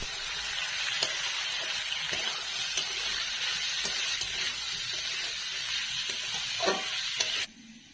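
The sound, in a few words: beans frying in oil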